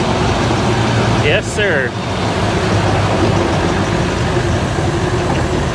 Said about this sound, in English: And the sound of that diesel engine, man.